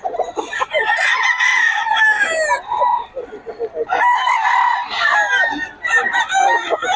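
A banded early bird gamefowl rooster crows loudly and close, two drawn-out crows with clucking in between, while people talk quietly in the background.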